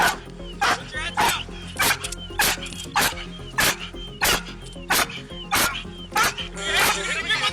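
A police K9 dog barks repeatedly during an arrest, a steady run of sharp, loud barks and yips at a fairly even rhythm, close by, with shouting voices mixed in.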